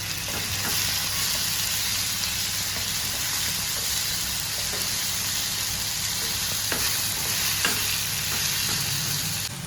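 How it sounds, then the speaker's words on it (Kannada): Onions browned and tomatoes added in a pan for chicken bhuna masala, frying with a steady, loud sizzle and repeated scrapes of stirring throughout, with no talking. "ಈಗ ನಾನು ಟೊಮೊಟೊ ಹಾಕ್ತಾ ಇದ್ದೇನೆ. ಎಲ್ಲ ಫ್ರೈ ಮಾಡಬೇಕು."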